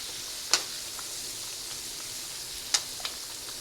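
Palabok noodles frying in cooking oil, prepared as a New Year's dish, give off a steady, soft, close sizzling hiss broken by two sharp crackling pops and a faint third one, with no voices.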